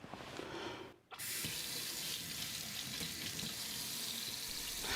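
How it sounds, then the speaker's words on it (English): Warm water runs steadily from a kitchen tap into a sink, a continuous close hiss that breaks off for a moment near the start and then flows on evenly for several seconds. "with the water running, I give my hands a good rinse"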